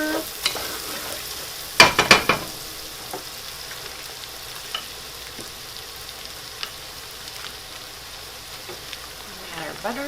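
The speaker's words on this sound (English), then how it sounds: "Give it a quick stir." Sautéed vegetables for a crab and grilled corn chowder are stirred in a pot, with a cluster of loud scraping strokes early on, then a soft, steady sizzle broken by occasional light clinks and scrapes.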